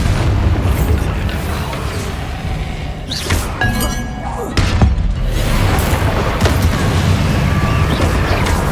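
Spell blasts from Hogwarts Legacy, including a Bombarda explosion, land as booming impacts with shattering debris and clinks amid continuous battle noise.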